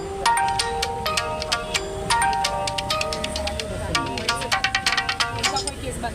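Phone ringtone playing a repeating bright melodic tone pattern, heard clearly over a low background of people talking indoors.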